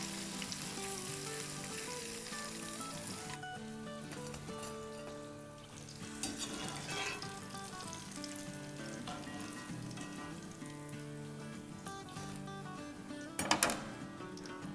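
Crispy fish sticks sizzle steadily in hot frying oil, a continuous close crackle and hiss with a few faint clinks of utensils near the end.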